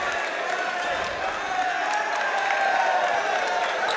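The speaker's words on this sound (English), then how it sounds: "And you'll hear it from the crowd." Basketball crowd in a college gym reacting to a foul call, a steady loud murmur and rumble of many voices with some shouts, sustained throughout.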